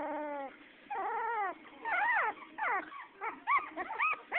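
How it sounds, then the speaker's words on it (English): A four-week-old puppy squeaks and whimpers close by, a series of high, wavering cries and yelps in quick succession. "Oh, now you're just squeaking."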